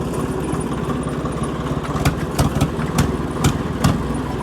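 A tractor engine runs steadily near the microphone at a Vaisakhi gathering, a continuous low rumble with periodic sharper knocks and bursts, no voices over it.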